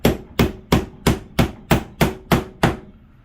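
A hammer tapping brad nails into wood for a faux brick wall, eight sharp evenly spaced strikes about a third of a second apart, close and loud with nothing else heard.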